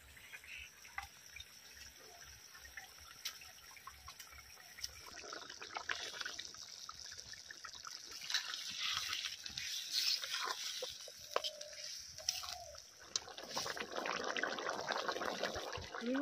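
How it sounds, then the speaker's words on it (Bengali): Water is poured into a pan of simmering rohu fish curry in a village kitchen, a soft trickling pour building gradually over a quiet room and growing steadier and louder toward the end, with no one talking. "হ্যাঁ পরিমাণ মতো জল দিয়ে দেবো"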